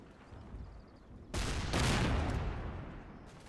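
Gunfire from a Combat Mission wartime battle around a village, with tanks, machine guns and cannon supporting advancing infantry: a low rumble that bursts into a loud, sustained volley after about a second, then slowly fades.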